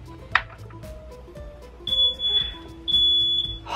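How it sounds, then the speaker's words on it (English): A high-pitched smoke alarm beeps in sustained, loud electronic tones, sounding twice with a short gap, over faint background clatter. "More and more I've been setting off my smoke alarms with my videos."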